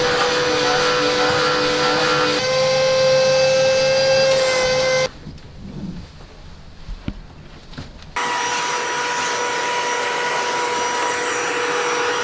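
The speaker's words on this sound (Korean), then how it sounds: "저는 보이면 어느 정도 제 거 청소기로 흡입을 해드리는 편이에요." Vacuum cleaner running loudly while sucking up dirt from floors and window frames during sofa cleaning, a steady tonal whine that cuts out for a few seconds, leaving faint clatter, then resumes at full strength.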